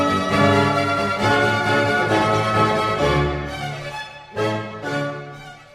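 Musical passage built on an applied chord to V with rising chromatic voices, played as sustained harmonic chords that move through several changes and swell, with a fresh attack near the end, clear and unaccompanied by speech.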